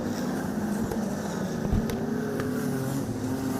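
Wingless sprint cars race around Lismore Speedway in a 100-lap Grand Prix A-Main, their engines a faint, distant, continuous drone with no voices over them.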